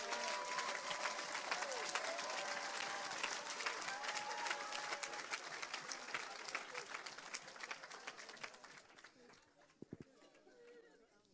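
A church congregation breaks into sustained applause, dense and lively clapping with cheering and chatter mixed in, fading toward the end with a few last claps.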